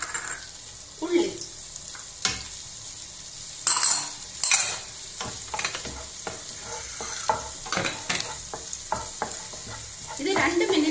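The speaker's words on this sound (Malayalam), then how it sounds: "ഇത് 2 മിനിറ്റ് മിക്സ് ചെയ്യുക. ഫുൾ ഫ്ലെയിമിലാണ് മിക്സ് ചെയ്യേണ്ടത്." Ginger, green chilli and onion stirred in a hot pan on full flame for vegetable fried rice, a spoon scraping and clinking in irregular strokes over a continuous close sizzle.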